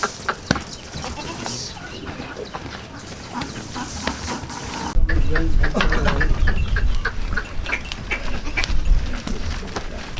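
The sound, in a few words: Kamori goats on a farm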